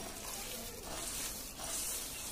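Mihidana grains dropped into boiling sugar syrup, a continuous frying-like hiss and bubbling that swells briefly near the end, heard alone.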